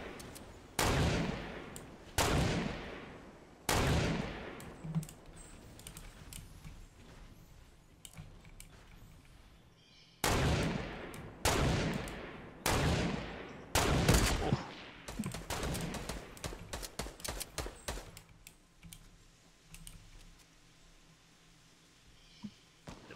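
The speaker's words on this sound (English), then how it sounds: "Who else is shooting at me?" Gunfire in Fortnite cracks out as loud, sharp single shots in spaced groups of three or four, followed by a burst of rapid shots and scattered fainter fire trailing off.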